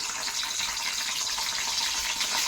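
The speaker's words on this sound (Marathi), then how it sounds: "हे पहा कढीपत्ता तडतडतो आहे।" Curry leaves crackle and sizzle in hot oil in a pan, a dense, steady hiss with fine popping that continues without pause and without any speech.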